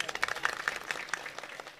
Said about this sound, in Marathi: हे दोघांकरता टाळ्या वाजवा.